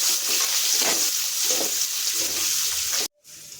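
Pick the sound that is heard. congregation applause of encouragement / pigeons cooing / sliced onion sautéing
sliced onion sautéing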